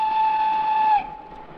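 A steady, sustained whistle tone from a toy station setup in a kindergarten, announcing an arriving passenger train, held loud for about a second and then cut off, leaving a low rumbling tail.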